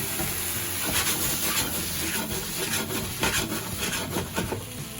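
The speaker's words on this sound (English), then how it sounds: "I'm just going to put this beef straight into there." Beef dropped into a hot pan for Scottish stovies, a steady loud frying hiss with scattered crackles and soft scraping, up close and without speech.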